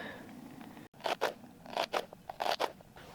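A knife cuts a red onion at a wilderness campsite in Minnesota, producing about eight crisp, close crunching chops in quick irregular succession over a quiet background.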